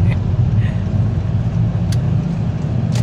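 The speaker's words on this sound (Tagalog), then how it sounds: "Traffic." Steady low road traffic rumble with passing car engines, continuous and fairly loud, heard while entering South Lake Village in Sta Rosa, Laguna, with a couple of brief higher hisses.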